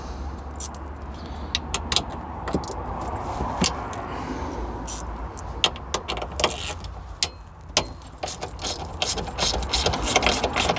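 A T40 Torx fastener is worked loose inside the boot of a BMW 5 Series E60, with close, irregular ratcheting clicks and metallic tool taps over a steady background.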